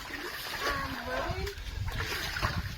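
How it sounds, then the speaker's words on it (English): Floodwater being pushed and splashed across a home's floor after Storm Kristin, with uneven sloshing splashes throughout, close by, mixed with people talking. "I'm pushing some water over to Sophia."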